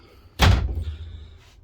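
Closet doors on a 2020 Forest River Sandstorm 304GSLR RV close with a single loud, close thud, followed by a short settling rattle and a faint latch click.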